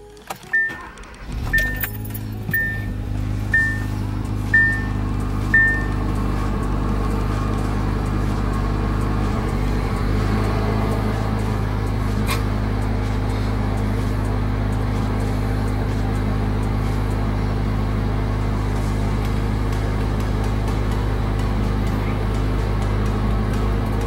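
A car engine with a resonator delete pipe cold-starting while parked with the windows down, a short crank catching into a loud, steady low idle that drones on alone, with a few early chimes and clicks at the start.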